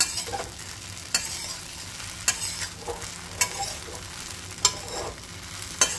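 Sabudana khichdi sizzles over low heat in a pan as a spoon stirs it, sharp scraping clicks recurring roughly every second over a constant soft frying hiss, close and without speech.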